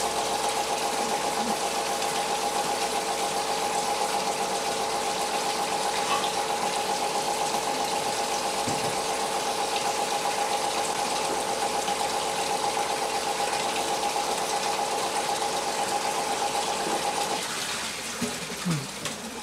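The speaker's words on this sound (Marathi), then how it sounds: "मोटर बंद झाला आहे, लाईट थांबली आहे" A single-phase electric motor hooked to a digital dry-run control panel hums steadily and loudly, then cuts off abruptly near the end when the overload trips, leaving a quieter background.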